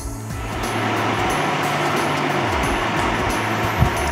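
An Electrolux Pure A9 air purifier with its fan running, a steady broadband whoosh of moving air that holds level and close for several seconds.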